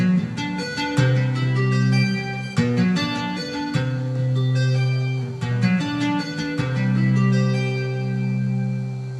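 Guitar running through the full third pattern, repeated picked phrases with sustained low notes and bright attacks in a steady rhythm, close and alone.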